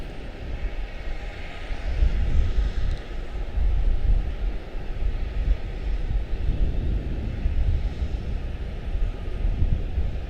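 An Airbus A321 airliner's jet engines rumble steadily at Charlotte-Douglas International Airport, a loud, broad roar that holds throughout with no talk.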